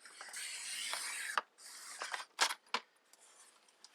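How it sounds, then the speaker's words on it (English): Scissors cut along the edges of a folded paper card in a few quick snips and a longer slicing pass, crisp and close, with no voices. "I'm going to cut this side first. I'm just going to cut a little bit off the edge"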